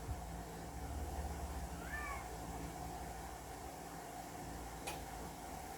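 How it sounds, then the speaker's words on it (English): A faint cat meow sounds once in the distance over a steady background hiss, followed later by a brief click. "Y'all hear my cat in the background?"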